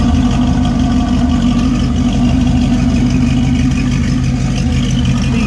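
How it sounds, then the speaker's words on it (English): A 1967 Camaro RS SS with stainless dual exhaust and a 12-bolt rear end idles steadily, a deep, even low rumble held for the whole stretch with no voices. "Exhaust sounds real good."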